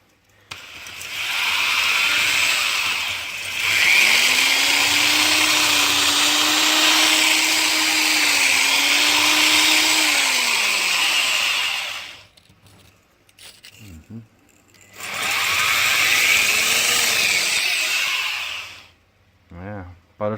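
A power drill fitted with a cheap bit bores into a garage wall, whining loudly in two long runs separated by a short pause with a few knocks, the motor pitch dipping under load.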